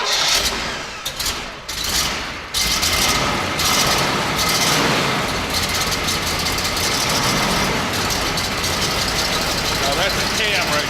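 A rare Pontiac muscle car engine, apparently a Firebird, cranks and fires with a loud bark, then settles into a deep, lopey idle with a heavy cam rhythm, close by, while people talk nearby.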